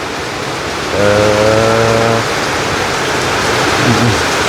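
Heavy rain pours steadily in a broadband hiss throughout, with a brief low tonal hum partway through and faint other sounds late on.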